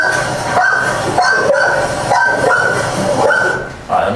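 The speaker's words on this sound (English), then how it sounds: "Now we hear a dog barking" A dog barks repeatedly, with yips and barks running in a rough rhythm over a dense, noisy background rumble during a deadly dog attack, fairly loud and continuous throughout.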